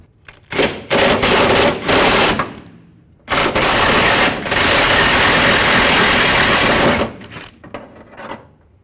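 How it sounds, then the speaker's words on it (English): An 18mm swivel socket on a ratchet or power tool works a nut loose on the rear upper control arm of a 2006-10 Volkswagen Jetta, giving loud, sustained rattling bursts with a short pause between them, no talk. "use an 18mm socket, preferably a swivel socket. Get on that nut and remove the nut."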